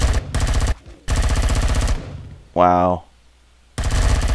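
Loud, rapid bursts of automatic gunfire in the Empyrion video game come in three long volleys separated by pauses, with a brief spoken exclamation in one of the gaps.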